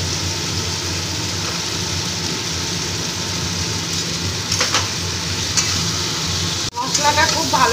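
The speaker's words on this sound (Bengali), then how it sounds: "ভাজা ফুলকপিগুলো দিয়ে আবার কষিয়ে নেব ভালো করে।" Fried cauliflower florets are stirred and sautéed with spiced potatoes in a pan, giving a steady close sizzle broken by a few utensil scrapes and clatters near the end.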